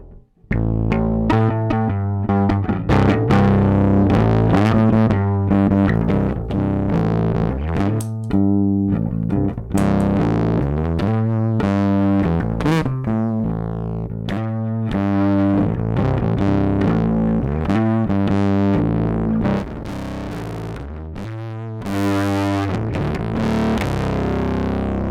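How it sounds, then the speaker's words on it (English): Bass guitar through Creation Audio Labs Grizzly overdrive and distortion together, heavily distorted, plays a gritty, buzzing riff of sustained and repeated notes, loud and alone throughout. "Let's use both the overdrives or the overdrive and the distortion together."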